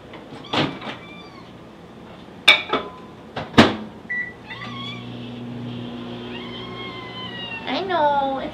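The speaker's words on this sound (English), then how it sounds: "I usually microwave it for like 8 seconds or so." A microwave oven hums steadily while warming cold cat food, with a cat meowing repeatedly nearby and a few sharp clicks and knocks from the door or cupboard.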